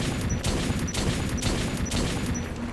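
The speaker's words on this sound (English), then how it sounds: "Four shots? Seriously?" Rapid gunfire from the video game Metro 2033 crackles in steady repeated bursts, loud and continuous, with no voices over it.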